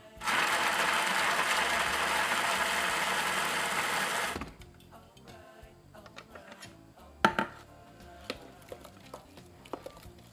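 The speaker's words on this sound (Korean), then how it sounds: "마늘 15개, 생강 한쪽, 청양고추, 일반고추 갈아보도록 하겠습니다" A blender grinds garlic, ginger, hot green chili peppers and regular chili peppers, a loud steady whir for about four seconds, then stops, leaving scattered quiet clicks and small knocks.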